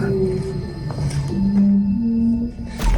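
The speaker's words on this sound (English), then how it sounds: "they hear what almost sounds like a loud wailing moan from somewhere very close by" A loud, drawn-out moaning wail slides and holds in pitch for a few seconds, sounding close by over faint background hiss.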